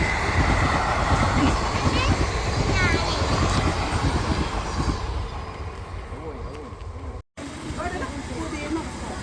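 A steady low rumble of a train passing right in front of a house during a wedding in Kannur, Kerala fills the first half, loud and close, fading slightly, with a brief dropout and faint voices near the end.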